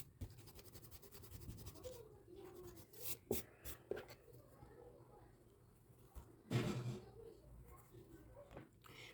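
A pencil scratches across paper while drawing a portrait of a figure with an open mouth, making quiet, continuous strokes with short sharper scrapes in between, all close and soft.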